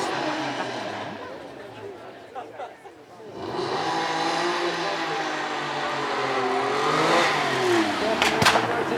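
A TVR sports car with a 4-litre straight-six engine, out on a track, swells from a quieter start into a loud, sustained engine roar that rises in pitch, with a commentator speaking over it throughout.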